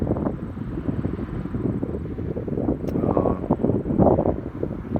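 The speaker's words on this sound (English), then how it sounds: "Not a huge jet. I say a medium-sized private jet." Medium-sized private jet taking off from a runway on a breezy day, a broad distant rumbling roar muffled by heavy wind buffeting the microphone, with no talking.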